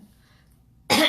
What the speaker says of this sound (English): just worried about my coughing.